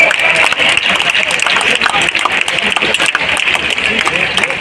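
Audience applause at a Tamil Nadu public ceremony, dense continuous clapping from a crowd, loud and steady throughout with voices mixed underneath.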